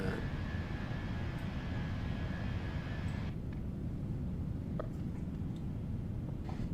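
Airliner engines roar steadily through a takeoff in Microsoft Flight Simulator, a loud broadband rumble with a whine that drops away partway through as the aircraft lifts off.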